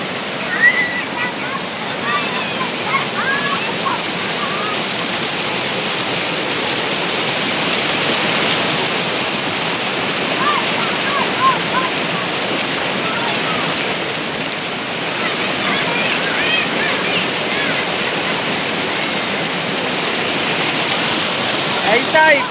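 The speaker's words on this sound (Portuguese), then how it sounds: "Estou dentro da cachoeira" A waterfall roars in a dense, continuous rush of falling water, loud and close, steady throughout.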